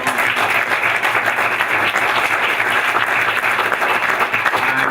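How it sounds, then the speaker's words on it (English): Even, sustained clapping from an audience at a Board of Education meeting continues for several seconds without a break, moderately loud and free of speech. "And I want to applaud everybody for working on it."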